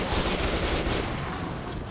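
Rapid, dense gunfire from Metro 2033 Redux, a steady loud burst of overlapping shots that fills the whole moment without pause.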